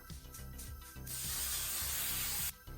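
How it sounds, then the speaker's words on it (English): Hairspray spraying onto teased 80s-style hair, a single steady hiss of about a second and a half, preceded by soft rustling and handling sounds nearby. "I'm gonna do a coat of hairspray underneath"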